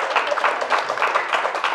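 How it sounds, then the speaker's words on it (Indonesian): A studio audience at a comedy roast show gives brief, steady applause, a dense patter of many hands at moderate loudness. "Tepuk tangan buat Bang Ajis."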